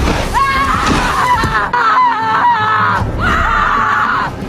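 A preacher imitates people screaming, a loud, sustained, strained vocal wail that rises and falls over several seconds with a brief break in the middle, close and forceful.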